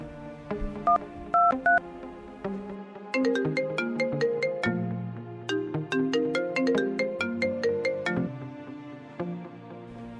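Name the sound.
telephone dialing and ringing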